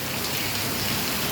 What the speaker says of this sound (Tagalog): Grabe po ang lakas-lakas ng ulan.